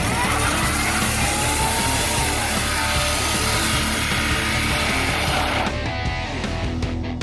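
A 2000 Buick Century, stock from the factory, doing a burnout: loud sustained engine roar with spinning, squealing tires, close and continuous before abruptly easing off near the end, no talking.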